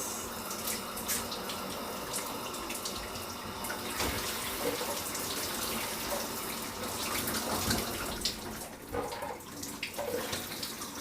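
A shower runs with a steady, close rush of falling water that continues unbroken throughout, with slight swells in level and no talking.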